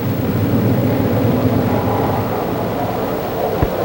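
Twin Westinghouse jet engines of a Banshee fighter roar steadily as it takes off from a carrier deck, a loud, continuous broadband rush with no break across the span.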